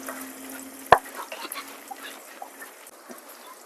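Onions slowly browning in a pan for a hyacinth bean curry give a low, steady sizzle, with one sharp clink near the start and a few soft scrapes as they are stirred.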